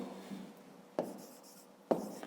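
A pen writing out a maths solution by hand on paper, soft scratchy strokes with two sharper taps or pen touches about a second apart, close and quiet with no talking.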